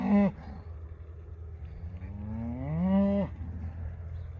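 A cow on a ranch gives two loud, close moos, a short one at the start and a longer rising, drawn-out call near the end, over steady low outdoor background.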